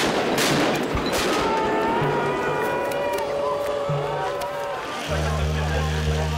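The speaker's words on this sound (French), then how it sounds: "Les forces de l'ordre reconquièrent la place à coups de grenades lacrymogènes." Police fire tear gas grenades to retake a square during a Nuit Debout protest in France, with sharp launcher pops at intervals over crowd noise and traffic, while a narrator speaks over it.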